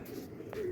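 Pet pigeons give a brief, soft coo close by, with a low throaty warble near the end over a faint background.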